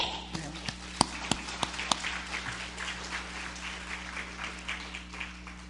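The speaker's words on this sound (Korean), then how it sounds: "우리 박수 한번 쳐주세요" Sparse, scattered applause from a church congregation, a few sharp claps at first building into a light, steady patter against a low background hum.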